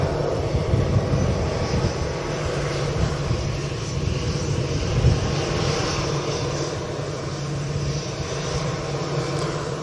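An airliner arriving from Genoa at Manchester Airport gives a steady, moderately loud engine roar heard from a distance, continuous and without talk.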